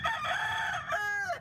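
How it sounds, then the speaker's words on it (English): A rooster from a cockfighting ring crows loudly and nearby, one long drawn-out cock-a-doodle-doo with a rising final note, alone without talk. "hundreds of roosters, part of a cockfighting ring that led to 34 arrests across the U.S."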